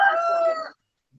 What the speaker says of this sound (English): I love that rooster.